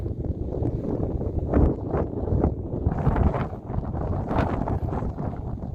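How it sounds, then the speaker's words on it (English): Wind gusting hard against the microphone outdoors on a coast, a deep rumbling roar that surges and eases in uneven bursts throughout, loud and close with no voices. "Oh, the wind's picking up."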